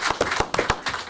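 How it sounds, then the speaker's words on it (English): At a borough council meeting, a handful of people clap for a youth team in uneven, separate smacks, a sparse, close patter of individual claps rather than a full ovation. "So let's give them another round of applause."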